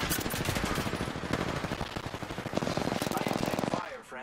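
Sustained automatic gunfire in Apex Legends, dense rapid bursts running almost continuously at close range before cutting off near the end, with game voice lines mixed in.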